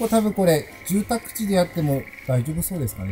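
A steady chorus of frogs croaking outdoors in a rural field sits faintly in the background, mostly under a man's close speech.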